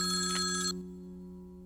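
A telephone rings at night with a bright, electronic trill that sounds loud and close, then cuts off abruptly after under a second, leaving low background hum.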